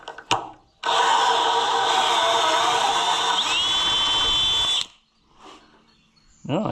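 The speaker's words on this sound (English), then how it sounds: "Is my drill battery dead?" A cordless drill whirs loudly for about four seconds, its pitch rising near the end before it cuts off, followed by faint clicks.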